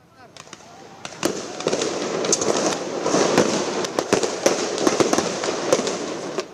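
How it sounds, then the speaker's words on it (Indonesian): Repeated sharp pops and bangs, scattered and irregular over a crowd's noisy background, as police fire tear gas at a distance to disperse protesters in Indonesia. "Polisi sempat melepaskan tembakan gas air mata untuk membubarkan massa"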